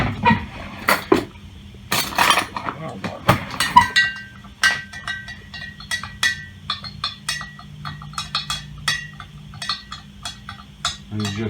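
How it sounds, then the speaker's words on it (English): A utensil stirring salt into a container of water to dissolve it for kimchi brine, heard as repeated close clinks and scraping taps in an uneven rhythm, with no talking. "you just keep stirring until all the salt dissolves"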